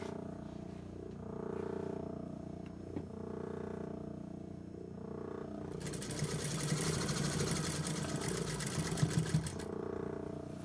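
A sewing machine stitching a men's tailored shirt hums in short bursts with pauses between them, then breaks into a louder, fast continuous whirring run of stitching through the second half.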